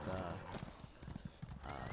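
A horse's hooves clip-clop steadily in the Elder Scrolls Online video game, a quick, even patter of hoofbeats under a voice, with soft ambient game sounds behind.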